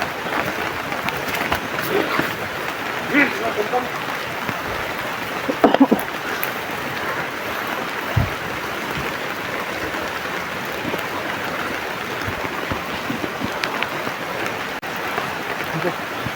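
Steady rain pours over a remote, secluded outdoor spot, a dense continuous hiss with occasional louder drops and brief knocks, with faint talk underneath at times.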